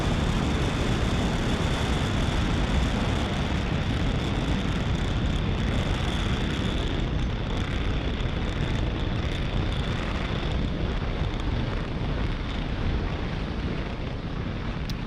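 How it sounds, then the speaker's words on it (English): A SpaceX Falcon 9 rocket climbs away from pad 40 at liftoff, its Merlin engines producing a continuous broadband roar and crackling rumble that holds strong for fifteen seconds, heard from a distance with wind buffeting and no voices. "Falcon 9 has successfully lifted off from pad 40."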